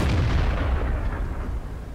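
A heavy tank cannon booms in World of Tanks, one loud, low blast at the start that rolls off into a long, rumbling decay with no voices.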